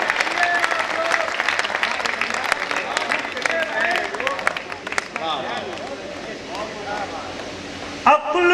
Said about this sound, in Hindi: एक बार मिल के तालियां बजा दें आप